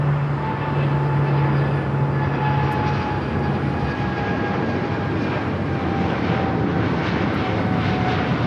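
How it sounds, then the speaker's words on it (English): A Korean Air Cargo Boeing 777 freighter rolls down runway 25 Right at LAX and takes off, its engines giving a loud, steady roar with a rising whine. "This is Korean Air Cargo, flight 9210, taking off to Seattle on the 777 freighter."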